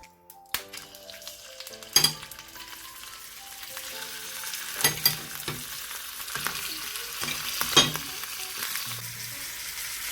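Fish fried in olive oil in a pan sizzles steadily throughout, with a few sharp clinks and scraping stirs standing out above the continuous crackle.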